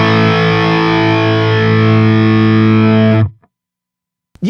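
A loud, distorted chord from a budget Firefly electric guitar rings out steadily for a few seconds, then stops abruptly, followed by a brief silence and a short burst of sound.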